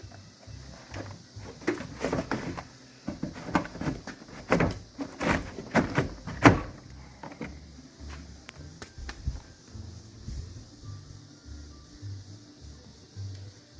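Rear door panel on a Ford F-250/F-350 Super Duty extended cab is worked loose, giving a run of sharp plastic clicks, knocks and rattles at close range with no talk.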